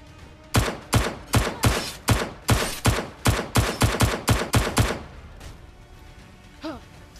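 A gun fired in the VR game Blade and Sorcery Nomad, about a dozen loud, sharp shots in a fairly steady rapid rhythm over four seconds, each with a short echoing tail, followed by quiet with a faint voice.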